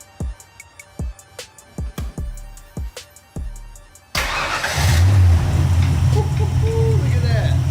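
A notchback race car with a freshly repaired exhaust leak cranks over in a series of rhythmic starter pulses, then fires up and settles into a loud, steady running rumble, close by, with voices partly under it.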